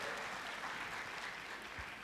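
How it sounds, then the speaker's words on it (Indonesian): Steady, dense applause from a church congregation during a sermon on family, filling the whole moment without any voices over it. "Tepuk tangannya boleh yang paling meriah buat Tuhan kita."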